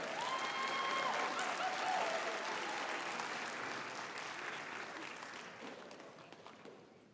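Steady, dense applause from a convocation audience cheering graduates at a fall ceremony, loud and sustained before gradually thinning toward the end.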